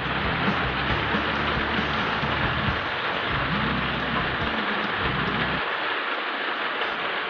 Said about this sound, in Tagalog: Sana tumila na po yung ulan.